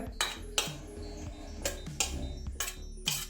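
Green chillies being ground by hand with a stone pestle on a flat stone slab, a shil nora, with sharp rhythmic scraping strokes repeating about every half second, close and fairly loud.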